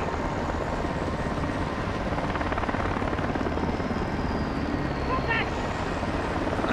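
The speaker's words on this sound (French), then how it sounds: "Nikolai, bloque-les avec l'hélico." Steady, loud rotor thrum of a helicopter in the video game Call of Duty Modern Warfare 2, filling the whole stretch as a constant droning roar with faint background game noise.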